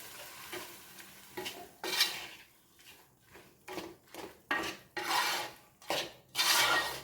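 Garlic pickle is stirred with vinegar in a pan, a spoon scraping and clinking against the metal in repeated short strokes, each stroke a brief gritty rasp between quiet gaps, fairly close and moderately loud.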